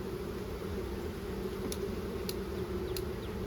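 Steady, dense buzzing of many bees at a beehive, continuous and fairly close, with a few faint higher clicks over the drone.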